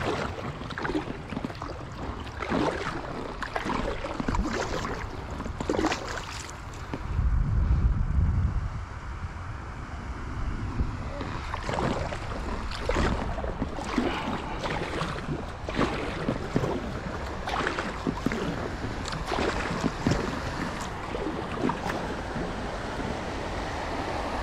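Paddling a Gumotex Thaya 2 inflatable kayak on the river Sieg gives repeated splashes and water swishes, with a steady rush of flowing water and gusts of wind buffeting the microphone close by.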